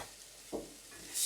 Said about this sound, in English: Let's give that another good stir around.